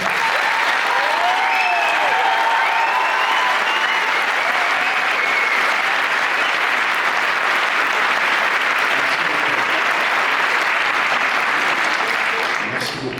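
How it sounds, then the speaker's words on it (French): A packed audience applauds warmly and steadily for a guest at a cinematography master class, a dense continuous wash of clapping with faint voices and a whistle or cheer inside it, easing only at the very end. "d'applaudir avec la chaleur qui mérite Alexandre Astier"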